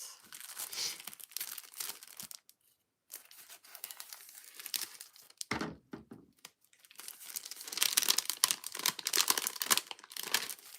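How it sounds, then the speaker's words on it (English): Scissors cutting paper while making a title for a craft piece, bursts of crisp snipping and rustling close up, with short pauses between cuts. "We'll use the new scissors, because why not?"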